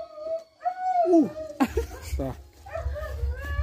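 A dog at a reservoir tilapia fishing spot gives whimpering yelps and a short howl-like whine, close by, mixed in with someone talking.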